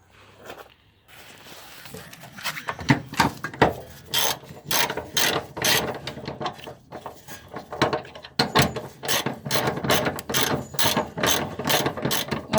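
A ratchet wrench tightens a bolt on a VW AdBlue reductant tank during a heater repair, its rapid clicking pawl running in steady bursts close up, with no talk.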